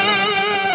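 Distorted electric guitar lick, a short sustained burst of bright, harmonically rich notes ringing out loud and alone for under a second.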